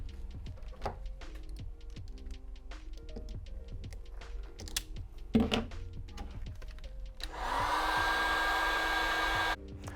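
A heat gun shrinks heat shrink tubing over crimped wire connectors during a 2016-2018 Ford Focus RS lit logo install. A steady blowing roar lasts about two seconds near the end, after a run of light clicks and taps.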